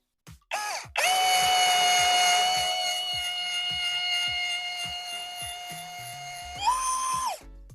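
A brushless cordless drill, an IMAX IMCD-20BL or a Chinese brushless model, whines loudly and steadily for several seconds, its pitch dipping slightly under heavy load, with faint rhythmic clicking beneath, then winds down.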